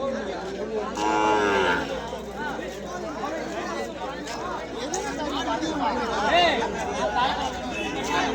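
Cattle at a busy cow market in Vaniyambadi low and moo repeatedly amid a hubbub of crowd chatter, with people talking close by throughout.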